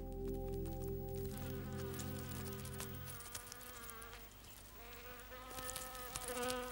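Bees in a laboratory sniffer-tube setup buzz with a steady droning hum that later turns more scattered and fluttering, close up and without talk.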